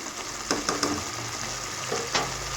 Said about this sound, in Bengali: তো মশলাটাকে ভালোভাবে কষে নিব